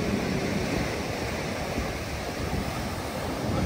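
Ocean surf breaking along the shore at Cape Town, a steady loud wash of waves with gusty wind buffeting the microphone throughout, no voices.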